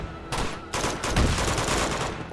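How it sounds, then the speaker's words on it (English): Rapid gunfire in Uncharted 2: Among Thieves, a dense burst of repeated shots that starts abruptly, pauses briefly, then resumes as sustained automatic fire, loud and close with no talking over it. "What are they shooting at?"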